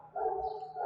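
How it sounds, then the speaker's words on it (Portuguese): A dog next door to a church lets out a single short bark or yelp, close and fairly loud, with a tonal, whining quality. "desculpa o barulho do cachorro aqui do lado"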